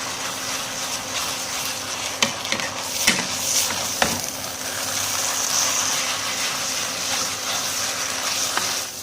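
Vegan pad see ew noodles stir-fried in a pan with soy sauce and cane sugar give a steady, close sizzling hiss, with a few sharp scrapes and clicks from the spatula as they are tossed.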